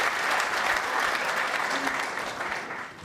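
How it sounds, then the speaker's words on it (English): Arena crowd applause for snooker player Joe Perry at the 2014 World Championship, a dense steady clapping that holds loud for about two seconds and then slowly thins and fades. "Applause for Joe Perry as he comes back"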